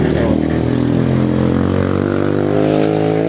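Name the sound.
borrowed motorcycle engine running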